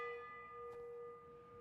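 Bell rung for the final lap of a bike race, a clear sustained ringing tone with a faint clang, distant and quiet over crowd background.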